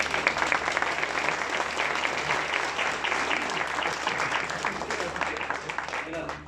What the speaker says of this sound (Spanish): Damos un fuerte aplauso, por favor.